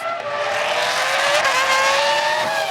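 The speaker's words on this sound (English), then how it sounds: "Taku passes Coulthard" Formula One cars at the 2004 Bahrain Grand Prix, including a McLaren being overtaken, howl past with loud, high-pitched engines whose rising and falling tones overlap steadily throughout.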